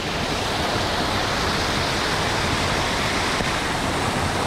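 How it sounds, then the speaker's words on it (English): A steady, dense rush of falling water from a waterfall beside a bridge in Asakusa, Tokyo, loud and unbroken throughout, close by. "The other side is a waterfall."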